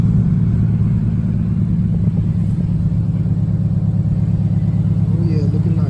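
A Scion FR-S sports car, its bumper recently repaired, idles with a steady low engine rumble close by, continuous and even throughout with no clear start-up surge.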